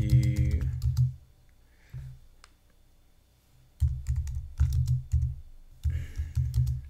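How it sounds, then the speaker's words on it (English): Typing on a computer keyboard, heard close as bursts of rapid clicky keystrokes, with a short quiet gap in the middle before the clatter picks up again. "let me see if I can type something here"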